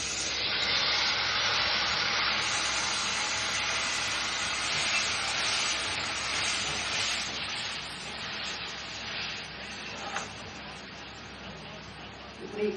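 Tamarind extract poured into a frying curry, a loud steady hiss of sizzling that slowly eases off, with a faint clink near the end.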